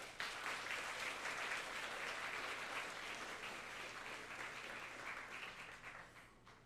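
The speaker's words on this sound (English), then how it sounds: "Big round of applause to you." A crowd applauds graduates at a high school graduation ceremony, sustained broad clapping from a large audience that holds steady for several seconds before tapering slightly at the end.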